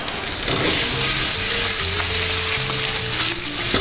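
Food fries in a pan until golden brown, giving a loud, steady, close sizzle and hiss that runs unbroken throughout, with no voices.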